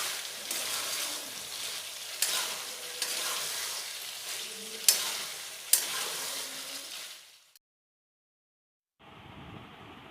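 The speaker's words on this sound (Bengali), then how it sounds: "এবারে 3-4 মিনিট একটু ভালোভাবে কষিয়ে নেব।" Chana masala frying and being stirred in a pan, a steady close sizzle with scraping spoon strokes and a few sharp clinks, which stops abruptly before a faint hiss returns at the end.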